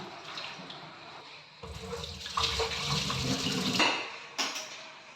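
Cut vegetable pieces are washed under running tap water in a kitchen, a steady splashing and trickling that swells louder in the middle and tapers off, with no talking.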